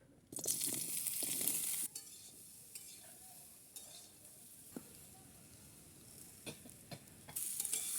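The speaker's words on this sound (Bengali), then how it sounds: "এবার আমি কড়াইয়ের মধ্যে অল্প পরিমাণ তেল দিয়ে আমগুলো ভেজে নেব।" Mango pieces frying in a little oil in a kadai, a bright sizzle that flares up at first, then settles into quieter crackling with scattered clinks of a spoon on metal before surging again.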